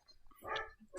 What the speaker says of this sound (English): And Sebi is barking